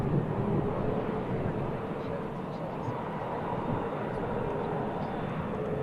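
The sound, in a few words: airplane at Manchester Airport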